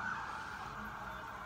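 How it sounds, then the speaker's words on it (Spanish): Ambulance sirens wail steadily as they pass along a city avenue, a sustained, fairly loud tone over a low rumble of traffic. "Ahí van las ambulancias."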